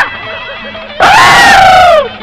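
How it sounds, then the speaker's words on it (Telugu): A man bellows a loud, sustained shout in a Telugu film scene, a sudden wavering yell lasting about a second that follows a quieter stretch of background voices. "వీడెందుకండి జురాసిక్ పార్క్ సినిమా చూసిన లెవెల్లో అరుస్తున్నాడు?"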